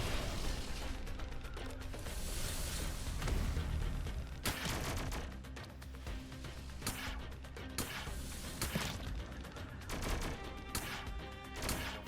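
Rapid mechanical bursts and clattering shots from an air gun firing a potion in the alchemical roguelite game Brew, dense overlapping game effects with sharp repeated pops over a busy background.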